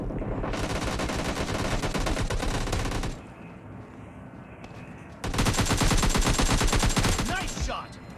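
Rapid automatic gunfire in PUBG Mobile Lite comes in two long, loud bursts with a quieter gap between them.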